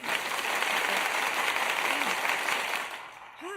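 Applause sound effect, a steady wash of crowd clapping at moderate level that fades out near the end, with a voice briefly audible in the background.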